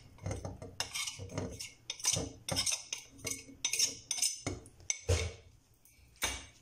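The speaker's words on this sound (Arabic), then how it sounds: "نقلبهم كويس مع بعضيهم" A spoon stirs cold milk, starch, whipped cream and sugar in a bowl, clinking and scraping rapidly against the sides in a busy, close, irregular rhythm with no voices.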